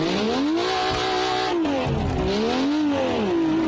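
A BMW E30 with the M Sport pack in BeamNG.drive accelerates hard off the line, its engine note climbing and dipping through the gears over squealing tires, loud and close with no talking.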